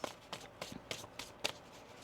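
Tarot cards being shuffled by hand in a quiet room, five or six soft, crisp riffling bursts at an even pace, close and faint, with no one talking.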